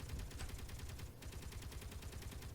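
Gatling guns firing at meteors in the Space Engineers game, a faint steady rapid stream of shots heard far off and without voices.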